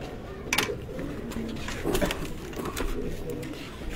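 Pigeons at a loft cooing softly, several low coos spread across a few seconds over faint background noise, with some distant voices.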